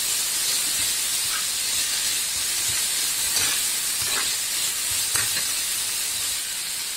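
Baby corn, grated carrot and broccoli frying in a pan make a steady, loud hissing sizzle that runs unbroken throughout, with a few faint knocks and scrapes of stirring, close up and with no one talking.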